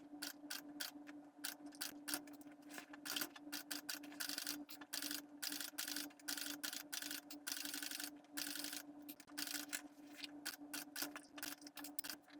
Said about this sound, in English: we're going to start top stitching